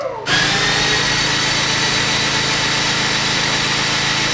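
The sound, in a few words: race car engine cranking to build oil pressure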